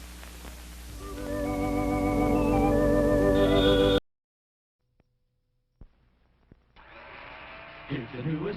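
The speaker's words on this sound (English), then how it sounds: "Here's the newest, most exciting sound in town. It's a General Electric blender that's going around." A General Electric kitchen blender whirs loudly and steadily for about four seconds, then cuts off abruptly into silence before quieter, unrelated sounds resume.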